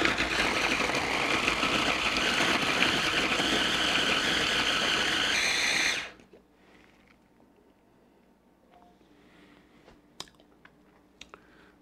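A blender whizzes up pitted fruit, a loud dense whirring roar that runs steadily for about six seconds before cutting off to quiet room tone with a few faint clicks.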